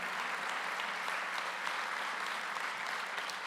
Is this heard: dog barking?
no